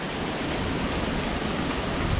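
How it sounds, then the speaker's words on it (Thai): Steady rain after a hailstorm, a dense, even hiss of drops falling without a break. "ลูกเห็บหายไปแล้วค่ะฝนมาแล้ว"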